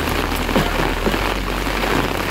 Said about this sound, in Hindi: मॉर्निंग में इतनी तेज़ बारिश हो रही है